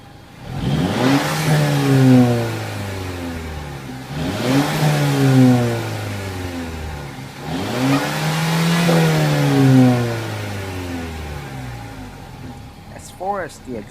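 With sport mode on, a 2014 Mercedes CLA 250 gives three loud, close revs, each engine roar climbing and sliding back toward idle, followed by a brief quiet tail.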